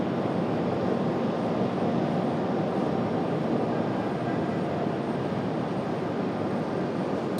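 An Icelandair jet taxis at Raleigh Durham airport, its engines giving a steady, even roar that holds at one level from start to end with no voices.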